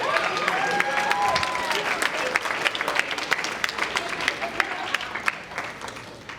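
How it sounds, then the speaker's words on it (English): Wedding guests applaud after a toast at a reception, a dense sustained round of clapping from a crowd with some voices and cheers mixed in. "One more round of applause for John, everybody."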